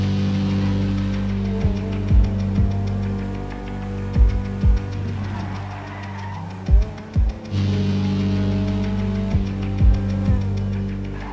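A Grotti Itali GTO, a front-engined all-wheel-drive sports car, hot lapping a dry track in GTA 5, its engine droning steadily with repeated gear-change thumps and revs over about eleven seconds, with no voices.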